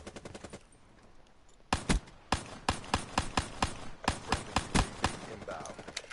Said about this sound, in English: Taking out my pistol